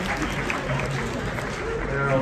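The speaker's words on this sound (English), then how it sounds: "Everyone, round of applause for our volunteers" Steady, dense applause from an event crowd for the volunteers, a continuous wash of many hands clapping at constant loudness, with a murmur of voices beneath it.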